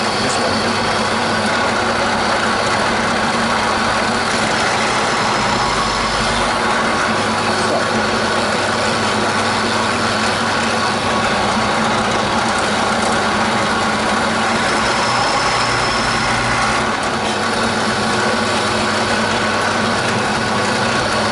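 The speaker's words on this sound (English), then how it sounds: "So, initial holes drilled" A power drill widens pre-drilled holes in the body of an Encore (India) Strat-style guitar during a refurbishment. The grinding whir runs steadily and loudly for the whole stretch with no pauses.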